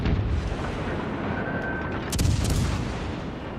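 Warship guns fire in the naval video game World of Warships Legends, a heavy rumbling boom over constant low engine and sea noise, with a sharper burst near the middle.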